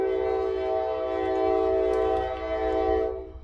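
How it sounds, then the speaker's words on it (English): In the video game Generation Zero, a passing train sounds a loud, sustained, harmonic horn over a rumbling engine, holding for about three seconds before fading. "And of course, the train's coming."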